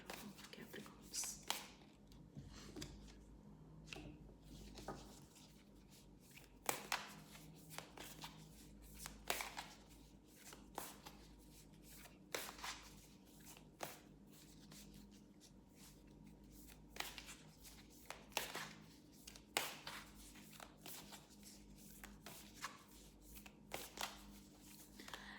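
Oracle cards are shuffled over and over in soft, quick riffling bursts, faint and close in a quiet room, with low whispery murmuring at times.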